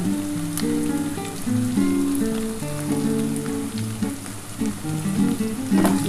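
Onions frying in a pan for Bengali mutton kosha give a loud, close, continuous crackling sizzle, with steady tonal music playing underneath throughout.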